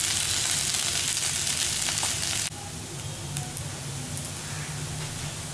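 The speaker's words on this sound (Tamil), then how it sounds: "கொஞ்சம் அந்த எண்ணெயிலேயே வந்து வதங்கட்டும். நல்லா ஃப்ரை ஆகட்டும்" Pieces of colocasia (taro root) frying in oil, giving a dense, loud sizzle that drops abruptly to a quieter, steady crackle partway through.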